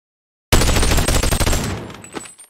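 Rapid automatic gunfire from a weapon fired from the hip in a VR first-person shooter, a loud, dense burst after a moment of silence that fades away toward the end.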